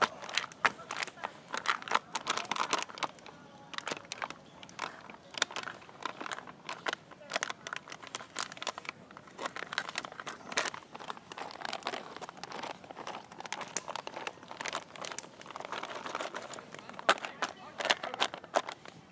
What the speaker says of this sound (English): Now we gotta seal the bag.